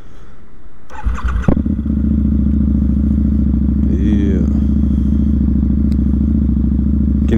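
A Harley-Davidson Night Rod with a 260 rear tire starts with a clattering crank, then settles into a loud, steady, deep engine rumble held close for the rest of the clip, with brief speech over it.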